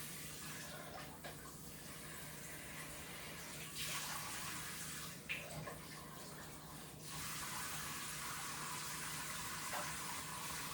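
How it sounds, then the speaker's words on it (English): Drained canned green beans rinsed under a kitchen tap, a soft continuous splash of running water with a few brief surges and clatters, fairly quiet throughout. "I drain these green beans and I rinse them off to get some of the sodium off"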